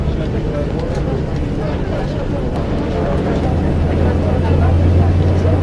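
An aircraft engine spooling up in Microsoft Flight Simulator 2024, a steady broadband roar with a low hum that grows louder and steadier toward the end.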